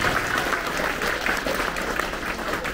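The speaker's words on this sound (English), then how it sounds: "Another big round of applause for our scholars on" Audience clapping for sixth-grade students on stage at an elementary school promotion ceremony, a short, steady burst of many hands at moderate level in a reverberant hall.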